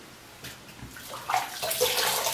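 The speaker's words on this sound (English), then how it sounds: "And I apply water on my face." Water is splashed onto a face between shaving passes, a few close wet splashes and sloshes from a basin, growing louder and more frequent toward the end.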